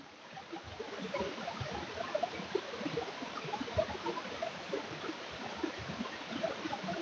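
Continuous rushing roar of a cold hillside waterfall at Rangaroon in Darjeeling, heard up close, with gurgles and splashes flickering through the steady wash of water and no speech.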